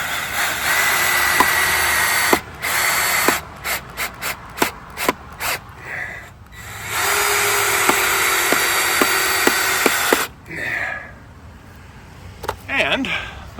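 A power drill drives 3-inch stainless steel screws into wooden fence rails, whirring loudly in long steady runs broken by stuttering bursts as the screws seat, close by.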